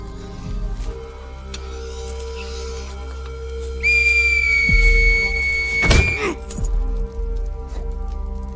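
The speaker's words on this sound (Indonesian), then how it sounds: "berharap suara peluit itu bisa mengundang para anjing liar di sana berdatangan" A whistle is blown in one long, steady, loud blast, set over a low rumbling background with a few thuds and knocks.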